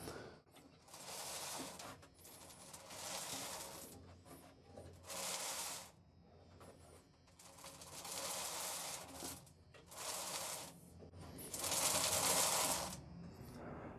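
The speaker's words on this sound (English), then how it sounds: "until you hear and feel the belt lightly touching or scratching the part" An EZ Sander abrasive belt, unpowered and turned by hand, lightly scratches a part in repeated bursts of rasping, scraping friction with short pauses between strokes, fairly quiet and close.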